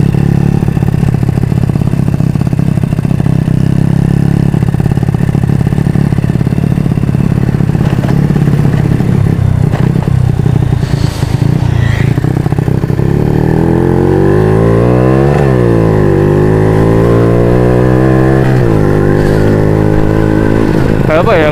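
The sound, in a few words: Honda Supra motorcycle with new exhaust silencer riding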